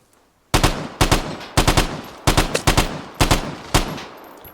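Gunfire in the video game Vigor, loud close bursts of rapid automatic shots fired in several short sprays with brief pauses between them.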